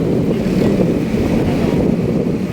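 Steady, loud wind rush buffeting the microphone while riding a motorcycle through Manila, a continuous low roar with no pauses throughout.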